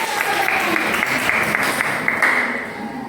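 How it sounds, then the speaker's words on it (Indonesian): Steady applause from a group of students in a classroom, continuous clapping at moderate volume filling the whole moment, with no one talking over it. "Tepuk tangan"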